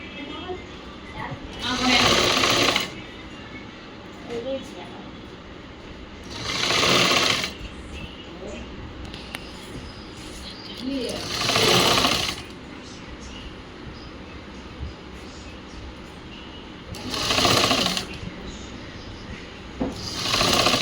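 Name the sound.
sewing machine stitching a blouse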